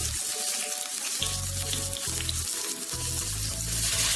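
Roughly chopped onion frying in about three tablespoons of hot olive oil, a continuous loud sizzle with faint low hum underneath, no voices.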